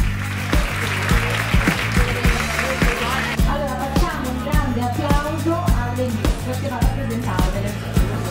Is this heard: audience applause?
yes